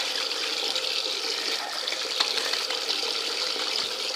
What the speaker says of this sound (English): We'll just spend 20 minutes scrubbing our pants and bring them out, hang them up inside.